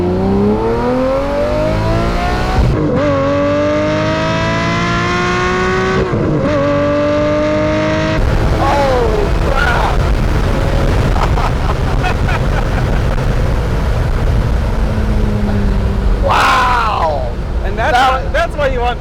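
A Lamborghini Murcielago engine revs hard through several rising sweeps as the car accelerates, loud and close with wind buffeting, then drops back to a lower growl with a final brief rev near the end; people talk over it.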